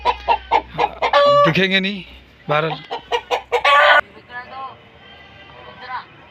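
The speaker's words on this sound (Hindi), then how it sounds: "ये देखो, ये मुर्गे रखे हुए हैं इसने, एक एक टॉप क्लास के।" Hens cluck and a rooster calls loudly nearby at a cattle market, while someone speaks over and between the birds.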